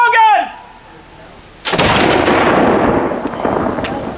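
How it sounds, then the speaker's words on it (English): An 18th-century wall gun fires at a fort garrison event outdoors, one loud booming report following a shouted command, with a long rumbling decay rolling away over several seconds. "Firing wall gun!"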